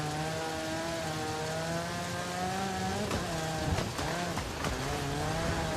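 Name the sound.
rally car driving over bumps, from video game Forza Horizon 5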